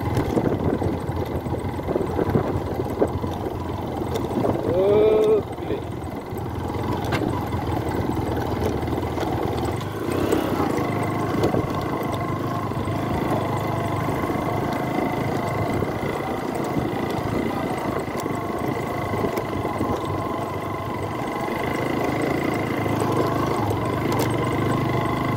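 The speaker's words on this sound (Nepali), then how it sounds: "डिस्कभर बाइक बल्ल बल्ल उक्लिन्छ" A Bajaj Discover motorcycle engine drones steadily and loudly throughout, straining uphill on an off-road climb with a constant, slightly uneven rumble.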